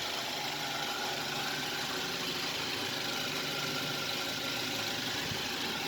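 Used car engine idling steadily up close, a continuous mid-pitched hum with faint rapid ticking from the fuel injectors, no voices.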